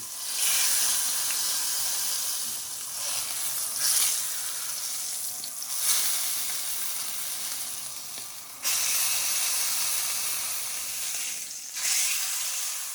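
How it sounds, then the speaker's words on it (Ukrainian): Beef steak sears loudly in a hot pan for a Beef Wellington, a steady close sizzle that swells and dips as the meat is turned to brown every side, with no talking. "Запечатимо наш стейк зі всіх сторін"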